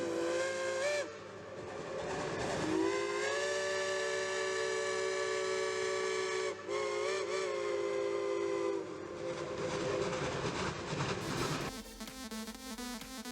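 A steam locomotive's whistle sounds long and loud with a steady harmonic tone, dipping briefly and resuming, over the rumbling clatter of the train running on rails.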